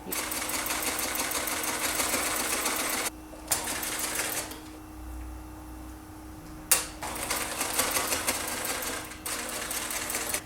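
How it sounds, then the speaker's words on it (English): A home sewing machine stitches a small quilted mug rug, its fast mechanical chatter running steadily in bursts broken by short pauses and a sharp click, with no talk over it. "we are just going to stitch around the corner a little ways"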